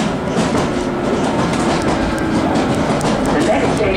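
A London Underground tube train runs on the rails between Wembley Park and Baker Street, a loud, steady rumble with rhythmic clatter of the wheels, close and continuous inside the carriage.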